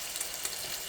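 Prosciutto frying in oil gives a steady close sizzle with a fine crackle running evenly through the whole second, and no voices.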